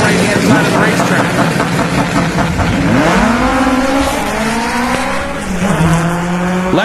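1995 Honda Civic making a drag racing pass, its engine screaming up through the gears with sharp pitch drops at shifts, loud and steady amid crowd noise, with a commentator talking over it.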